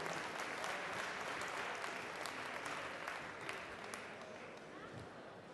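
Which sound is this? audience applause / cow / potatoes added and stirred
audience applause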